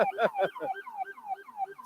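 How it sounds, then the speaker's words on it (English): Fire department truck siren in a St. Patrick's Day parade in Dublin, Georgia, a rapid warbling wail repeating in quick electronic sweeps, fairly close and loud outdoors. "quite an impressive siren there, isn't it?"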